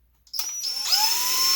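A power drill bores a hole through wood while building a Zippkits JAE 21FE V2 outrigger wood kit, a steady whining motor drone close by that starts after a short pause and rises slightly in pitch as the bit cuts, with no talking.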